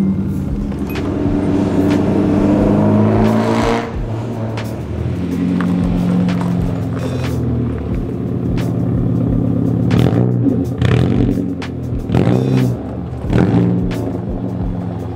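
Japanese 240 car idling with its engine rumbling steadily, broken by a few sharp revs and short bursts of throttle near the microphone, with no voices.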